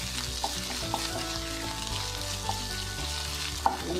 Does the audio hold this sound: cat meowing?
no